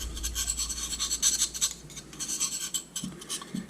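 A pattern-welded carry knife has its edge dulled by rubbing, a close, dry rasping scrape in quick repeated strokes with no speech.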